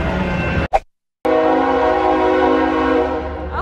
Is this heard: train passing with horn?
yes